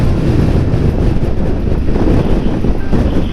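Wind roars steadily and loudly across a microphone while travelling into a valley on Argentina's Ruta 40, a continuous low buffeting rumble with no voices.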